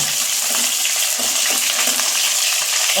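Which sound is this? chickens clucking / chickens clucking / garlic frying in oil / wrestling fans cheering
garlic frying in oil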